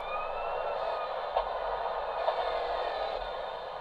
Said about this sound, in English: I hear their sirens